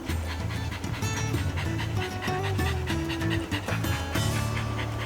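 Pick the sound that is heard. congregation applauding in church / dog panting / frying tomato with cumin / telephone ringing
dog panting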